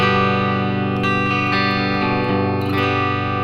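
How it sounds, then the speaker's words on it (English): A bright, tight electric guitar chord played on the bridge pickup rings out loud and sustained, with a few strums and light pick attacks layered over the steady ring. "So here's an example of the bridge pickup on my guitar."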